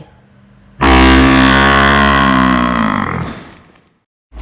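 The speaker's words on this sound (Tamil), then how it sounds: "எருமை." A buffalo lets out one loud, close, drawn-out moo lasting about two and a half seconds, rich and deep. It trails off into quiet.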